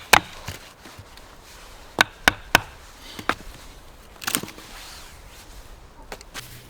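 Fixed-blade knife batoned through wood outdoors in snow, several sharp woody cracks and knocks, a few in quick succession, close and alone against quiet background.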